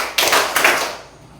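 A classroom group claps hands on command, with two loud, smeared bursts of many unsynchronized claps close together, then a fading tail.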